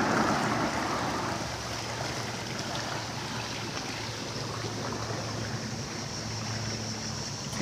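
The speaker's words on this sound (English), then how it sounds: "Listen to the creek and the crickets." Steady broadband rush of Conodoguinet Creek flowing on the Appalachian Trail, continuous and even throughout, with a faint low hum underneath and no voices.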